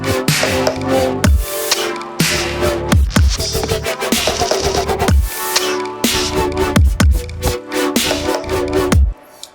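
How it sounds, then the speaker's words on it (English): A wobble effect built with the Distort Chain plugin pulses through a dense, distorted electronic bass loop, loud and rhythmic, with modulated throbbing bursts that cut off abruptly near the end. "Today we're going to use the Distort Chain to create a wobble effect."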